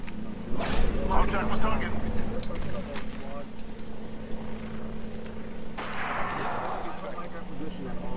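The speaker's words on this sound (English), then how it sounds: "Gunfire." Gunfire from a battle royale shooter match, with heavy booming shots and rumbling explosions in bursts over a constant engine-like drone, separated by a long steady hum, loud and close.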